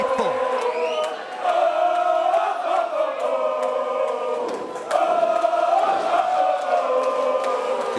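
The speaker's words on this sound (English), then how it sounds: "It is electric here, a riotous crowd here at the Melbourne Pavilion." A riotous crowd roars at a wrestling event in the Melbourne Pavilion, a loud, sustained wall of cheering and shouting that swells at about one and five seconds and never drops away.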